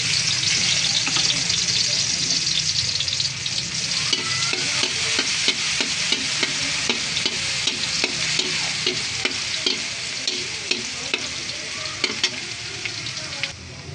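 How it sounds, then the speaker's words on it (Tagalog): Garlic sautéing in a pan as the first step of ginisang sayote gives a steady, loud, close sizzle that runs the whole time, with small taps and scrapes of stirring. "Una po muna, magigisa tayo ng bawang."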